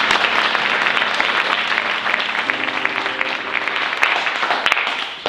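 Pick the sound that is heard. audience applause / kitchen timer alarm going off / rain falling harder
audience applause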